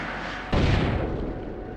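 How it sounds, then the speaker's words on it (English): An M203 grenade launcher round detonates in a console war video game: a single sudden explosive boom that rolls into a rumbling decay, with no talk. "Grenade out!"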